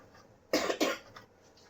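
A woman with a cold gives two quick, harsh coughs close by, then falls quiet.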